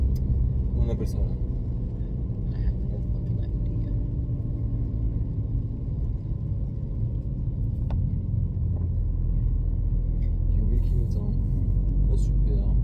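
Car engine rumbling at around 800 rpm while driving, a steady low drone with road noise that runs throughout, close and continuous under faint cabin sounds.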